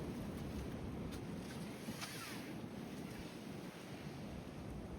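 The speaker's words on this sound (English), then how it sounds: "Look at that wind." Strong storm wind gusts steadily around a tent, a continuous loud, broadband roar buffeting the microphone throughout with no pauses.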